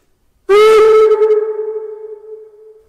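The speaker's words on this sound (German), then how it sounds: "Dann gibt es einen Kurzpfiff" Short steam whistle blast from the sound module of a KM1 1:32 gauge 1 model of class 18 201, loud and clear, then ringing away in a fading echo, no voices.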